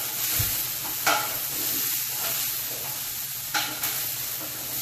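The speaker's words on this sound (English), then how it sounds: "in the pot I already have my onion and my celery, okay? So I'm gonna let that cook down a little bit" Onion and celery cooking down in a soup pot for caldo de pollo with cumin, curry and cayenne give off a steady sizzle, with a few brief stirring clatters along the way.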